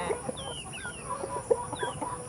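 Native chickens cluck and chatter in short, scattered calls, a small flock nearby with one sharper squawk midway.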